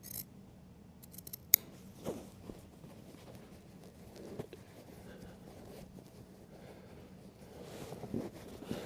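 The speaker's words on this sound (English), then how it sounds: "So I'm making the cuts to go around the bottom of the back rail." Scissors make a few faint, scattered snips as they cut checked upholstery fabric around the bottom of a wing chair's back rail. The snips are quiet and close, with soft handling rustle and no talking.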